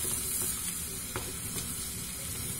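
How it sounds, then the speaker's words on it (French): Mint leaves frying in melted butter for a Turkish yogurt soup, giving a soft, steady sizzle with a few faint stirring scrapes, close by and fairly quiet. "Maintenant, on va mettre la menthe. Et on va la faire revenir dans ce beurre."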